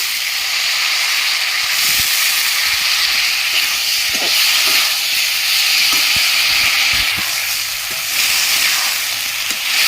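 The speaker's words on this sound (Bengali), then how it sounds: "ধুয়ে রাখা ডালিয়া দিয়ে দিচ্ছি" Washed broken wheat (daliya) going into a hot pan with turmeric for a vegetable daliya khichdi, producing a continuous loud steamy hiss and sizzle with a few faint clinks, no talking.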